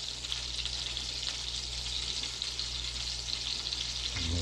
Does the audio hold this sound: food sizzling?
yes